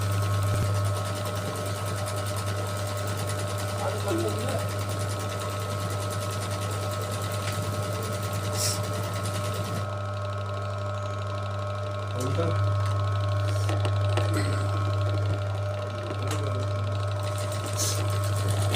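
A sewing machine runs steadily after its needle has been set straight, a continuous mechanical hum with a low drone throughout the whole stretch, with slight changes in tone partway through and no talk over it.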